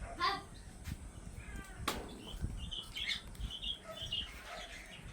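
Pigeons in a large aviary cage flap their wings in short fluttering bursts, faint and somewhat distant, mixed with chirps from other cage birds and a brief background voice.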